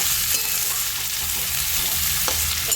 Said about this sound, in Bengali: তাহলে ক্যাপসিকামটা দিয়ে একটু ভাজা ভাজা করে নিয়ে